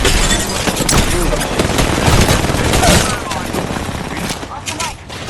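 Rapid bursts of gunfire in the battle royale game Apex Legends, including a Wingman pistol, crackle loudly and continuously for several seconds, with excited voices talking over the shooting.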